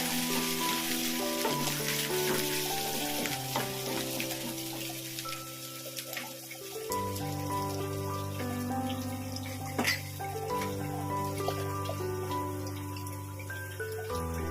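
Grated ginger sizzling steadily in hot oil in a pan while being stirred, a continuous close frying hiss over soft background music with occasional clinks.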